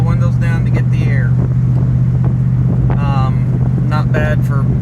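Twenty-year-old car with an adjusted exhaust and 262,000 miles, cruising with the windows rolled down, a loud steady engine drone and wind rush under ongoing talk.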